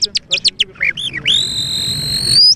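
A man imitates a bird call with his mouth: a string of quick, sharp chirps, then a long, steady, high whistle that rises slightly at the end.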